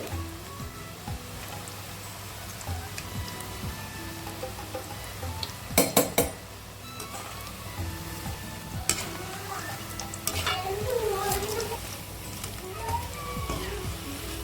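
Yellow pumpkin pakoda fry in hot oil with a soft continuous bubbling sizzle, punctuated by brief clinks and scrapes as the fritters are turned, close by and with no talk.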